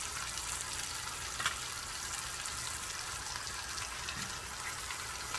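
Porterhouse steak frying in a pan with butter gives a soft, even sizzling hiss that holds steady throughout, fairly quiet with one faint click.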